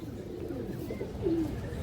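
Flying-breed pigeons, silver-necked or green-necked, coo in low soft murmurs, close by and steady throughout the short stretch.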